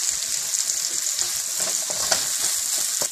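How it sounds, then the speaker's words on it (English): Carrots sauteing in a pan for Indo-Chinese Hakka veg noodles, a steady close sizzle and hiss of frying with occasional stirring scrapes, heard alone. "So saute this carrots for a while because it needs to be cooked."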